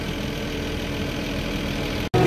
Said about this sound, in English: Engine is running.